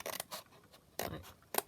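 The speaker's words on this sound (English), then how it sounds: "So I'll just cut that one out" Scissors cut paper for a junk journal in a few short, crisp snips, heard close and clean in a quiet room.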